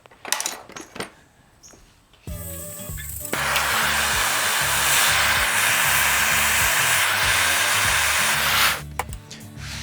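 A heat gun blows a loud, steady whooshing roar onto a go-kart motor gear, switching on after a few clinks of metal and running for several seconds before cutting off.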